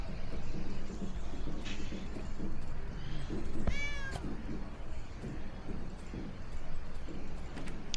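A cat meows in a hidden object art game, a single clear rising-and-falling meow in the middle against a steady background of game music and ambience.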